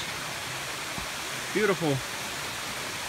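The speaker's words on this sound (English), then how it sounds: "a flowing little stream up the side of the mountain" A waterfall and a flowing stream along a mountain trail give a steady broadband rushing wash, with someone briefly speaking over it.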